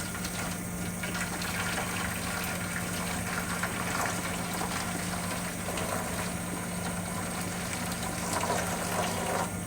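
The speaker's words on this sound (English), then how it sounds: "Putting some of the water of the vegetables into the gravy." Vegetable cooking water is poured into gravy for a roast pork Sunday dinner, a steady gushing, splashing stream of liquid that runs continuously and close with no talking.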